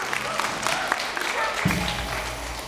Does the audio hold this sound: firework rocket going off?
no